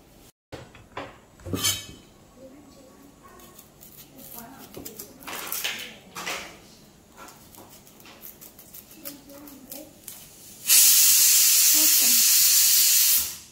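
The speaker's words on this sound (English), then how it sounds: "while you're pressure cooking the dal" Near the end a pressure cooker holding dal lets out a loud, sustained hiss of steam, following a stretch of talking and light kitchen clatter.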